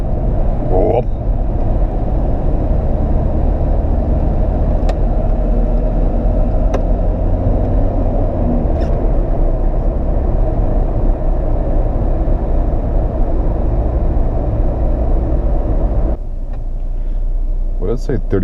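A 1987 Volvo 240 station wagon engine hums steadily and loudly in traffic, a low continuous drone with a brief change near the end; occasional voices speak over it.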